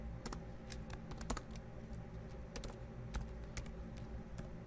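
Typing on a computer keyboard while writing a C++ program, with irregular, close key clicks and occasional sharper strokes over a quiet room hum.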